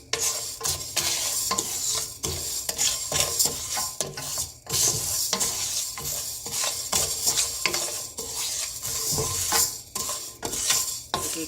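Rice roasting in a pan on a low flame for black gram laddu, with a utensil stirring and scraping in repeated strokes against the metal over a light sizzle. Steady and close, with no talking.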